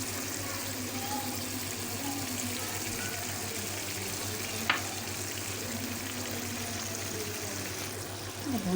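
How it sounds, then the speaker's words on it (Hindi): Spinach frying in a pan with water in it: a continuous soft sizzling and bubbling, steady and close, with a brief clink midway and a stirring scrape near the end. "पालक हमारी फ्राई हो रही है।"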